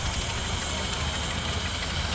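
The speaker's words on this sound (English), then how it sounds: "Now this is not a steam, it's a 16 David Brown tractor." A David Brown tractor with an internal combustion engine running at the Cromford Steam Rally, a steady rough rumble close by, with a voice talking over it.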